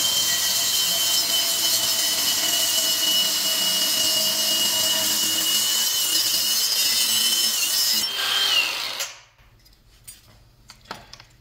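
A power tool with a cutting wheel shortening a 30/30 brake chamber rod, a loud continuous high whine for about eight seconds that winds down and stops, followed by a few faint clanks.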